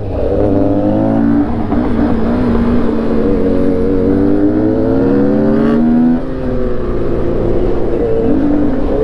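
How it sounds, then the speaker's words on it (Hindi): Loud, roaring exhaust from two superbikes at speed on the road, rising and falling as the engines rev, continuous and close. "मुझे नहीं पता आपको मेरी आवाज आ रही है इन दोनों के एग्जॉस्ट साउंड के पीछे से नहीं"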